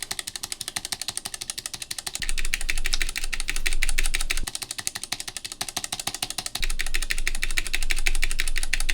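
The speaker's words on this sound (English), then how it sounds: "This results in an unpleasant typing sound." Rapid mechanical keystrokes clack on a GamaKay K61 60% mechanical keyboard, with keycaps catching on the switches as they bottom out, a dense close clatter that comes in bursts separated by brief quieter stretches.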